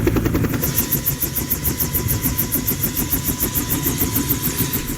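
A search-and-rescue helicopter's engine runs during a crash-victim evacuation to Timika, with a loud, steady whine and a fast, even rotor beat that continues throughout.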